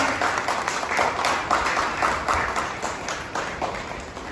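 An audience at a Goan community bride-groom meeting event claps together, a steady dense patter of hands lasting several seconds with rhythmic surges.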